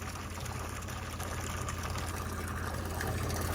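A tractor engine labors hard nearby, a heavy low-pitched rumble with steady pulsing throb and broadband roar sustained throughout, loud and continuous with no voices over it.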